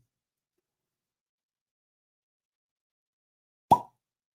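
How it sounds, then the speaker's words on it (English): Silence, then a single short, hollow pop as the tight cork is pulled from a Springbank single malt Scotch whisky bottle, close and crisp. "Let's see if we can get a good cork pop."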